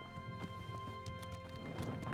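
Horse hooves clip-clop at a steady trot in the medieval game Kingdom Come: Deliverance, heard faintly under a steady in-game hum and ambience.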